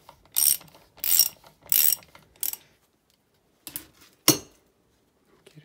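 Ratcheting metal clicks while removing a screw to take out the reverse gear of a Fiat 126 transmission, three evenly spaced sharp bursts followed by a pause and a couple of louder clanks, close and alone.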